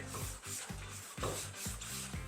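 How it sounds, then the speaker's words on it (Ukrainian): Rhythmic rubbing strokes of fine sandpaper over a hard surface, back-and-forth passes repeating about every half second, close up and moderately loud. "ми легенько його прошліфуємо для кращої адезії"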